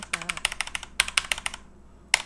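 Rapid, close clicking on a computer keyboard during a PC game comes in a quick run of keystrokes, then a brief pause and one last sharp tap.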